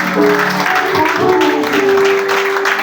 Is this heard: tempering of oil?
no